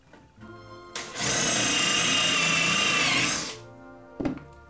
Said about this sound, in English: We're going to pre-drill again making sure that the front and the side are flush.